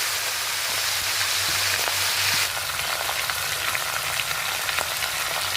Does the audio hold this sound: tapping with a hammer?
no